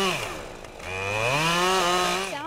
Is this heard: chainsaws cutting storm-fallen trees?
yes